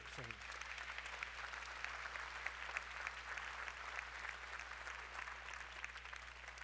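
Steady applause from a crowd fills the room, continuous clapping at moderate volume with a brief voice at the very start.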